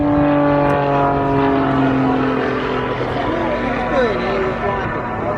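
An aerobatic plane with a 6-cylinder 8.5 litre Lycoming engine at the Eastbourne Airshow, giving a loud, steady droning engine roar with a strong tonal hum that holds for several seconds.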